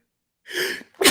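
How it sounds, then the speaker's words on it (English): A single close sneeze: a short breathy intake followed by a sharp, explosive burst right at the microphone. "I just sneezed on the mic, which splattered everywhere on my computer"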